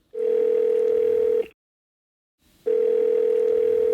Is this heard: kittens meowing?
no